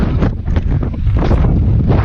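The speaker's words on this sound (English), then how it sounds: "It's really windy today" Strong gusty wind on a mountain hiking trail in the Wichita Mountains buffets the microphone with a loud, low rumbling roar that swells and dips, with no voices.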